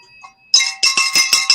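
A handheld bell rung five times in quick succession during a lively conversation, each bright metallic strike ringing briefly before the next, close and fairly loud after a quiet opening.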